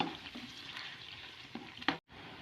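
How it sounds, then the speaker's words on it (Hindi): Soft, steady sizzle of garlic and ginger frying in a pan, with a few scraping stirs and a brief clatter near the end. "एक मिनट के लिए इसको भून लेंगे लहसुन और अदरक को ताकि इसका कच्चापन ना रहे।"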